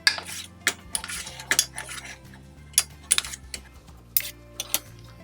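Choux pastry dough stirred in a pot with a utensil, giving sharp scattered clinks and scrapes against the metal in an irregular rhythm, close and fairly loud over faint background hum.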